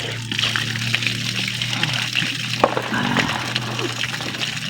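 Water splashing and pouring while someone bathes outdoors in the countryside, irregular near splashes and trickles over a steady low hum, with occasional faint voices in the background.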